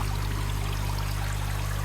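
Water from a small aquarium waterfall in a fish room trickles and splashes steadily and closely, with a continuous low hum beneath it.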